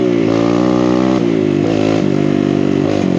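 A big-bore Kawasaki KLX140RF dirt bike engine revs hard and close, its pitch climbing and dropping in several quick throttle blips with a loud, buzzy mechanical drone and no talk.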